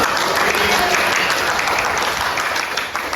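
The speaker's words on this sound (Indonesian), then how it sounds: "Tepuk tangan buat kita semua." Dense, steady applause from a large group fills the whole stretch, loud and continuous.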